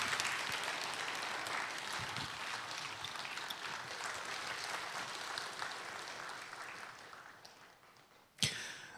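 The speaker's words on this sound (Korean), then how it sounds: "박수로 격려해 주시기 바랍니다" A church congregation applauds during a Sunday afternoon service in Korea, a sustained wash of clapping that gradually thins and fades out, ending with a sharp bump at the close.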